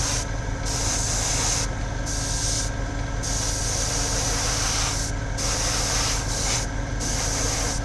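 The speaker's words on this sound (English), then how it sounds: "because we're running it through an airbrush, it's not settling into the recesses, it's coating everything evenly" Airbrush spraying paint onto a model, a continuous close hiss with the airflow briefly cut and restarted several times in short gaps, no speech.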